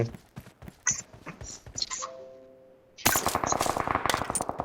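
Rapid bursts of gunfire crackle repeatedly, pausing briefly before a louder, sustained volley of automatic shots, from a BGMI match on the Livik map.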